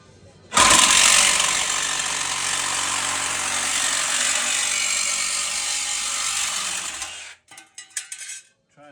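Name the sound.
Sawzall reciprocating saw cutting a Jeep floor plate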